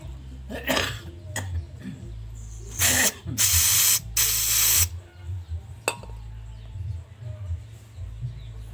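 Cleaner sprayed into a clogged part of a Honda Megapro motorcycle with a throttle fault: two loud sustained hissing bursts, a few shorter sprays around them and a cough, over a low background hum.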